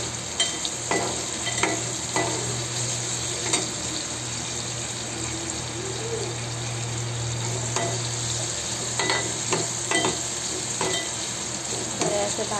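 Tomato roasting in oil in a pan over a lowered gas flame, a steady close sizzle with frequent stirring clinks and scrapes throughout, plus a faint running-water hiss behind it.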